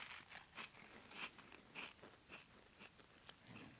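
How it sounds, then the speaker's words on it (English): Someone crunches food at a faint, quiet level, with a run of irregular short bites and chews spaced through nearly four seconds and no talk over them. "I can hear you crunching."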